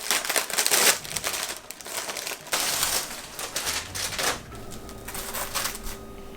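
Wafer cake sheets being unwrapped from crinkly plastic packaging in a kitchen during candy making, giving close, loud rustling and crumpling bursts in irregular clusters with brief pauses.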